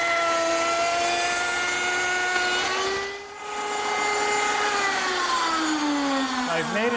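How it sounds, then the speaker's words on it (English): A router table fitted with a slot cutter cuts a groove about 5/16 inch deep along the edge of wooden chair stock, making a loud, steady, close high whine that dips briefly and drops in pitch near the end as the cutter loads. "I'll use my router table to do that"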